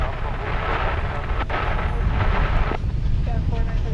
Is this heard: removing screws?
no